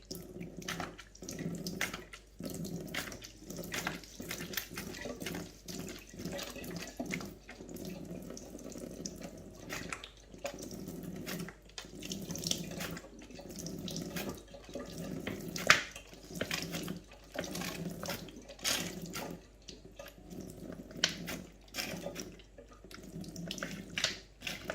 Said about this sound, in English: You need to filter the water out now.